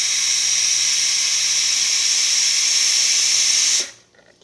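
A loud, steady hiss of a Breville espresso machine's steam wand blasting for several seconds, then cutting off abruptly into near silence.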